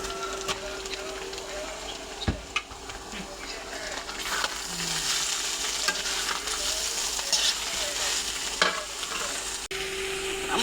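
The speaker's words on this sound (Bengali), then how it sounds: "আমার শাক ভাজা প্রায় কমপ্লিট।" Radish greens with dried red chilli fry in a hot pan, giving a continuous crackling sizzle broken by scraping stirs and a few sharp knocks of the spoon against the pan.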